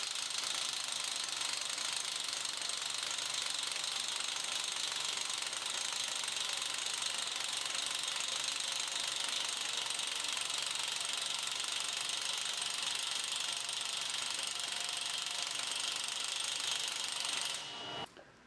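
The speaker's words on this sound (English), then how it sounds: "I'm using the 14mm reamer and I have applied cutting fluid" An impact driver spins a 14mm impact reamer with cutting fluid, enlarging a hole in a steel bumper. It makes a loud, steady, rapid hammering rattle for about seventeen seconds, then stops abruptly.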